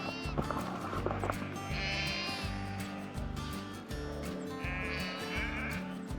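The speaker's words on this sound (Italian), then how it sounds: "ci sono le pecore" Sheep bleat at pasture in Azrou, Morocco, with two or three drawn-out calls at moderate distance over a steady low rhythmic hum and scattered clatter.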